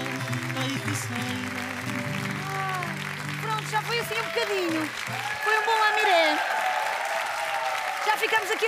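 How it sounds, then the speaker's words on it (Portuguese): A studio audience applauds a fado group on a Saturday television show; the music fades out and steady clapping builds, with a presenter's voice over it. "Um forte aplauso, então, para este grupo de fado."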